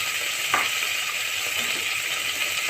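Mutton frying in a pan for Bengali mutton kosha hisses with a steady sizzle, with a brief scrape of stirring near the start.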